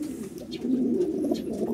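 A MacArthur racing pigeon of checkered blue bar type coos steadily in a loft, a low soft warbling murmur running throughout, close and continuous with no talk.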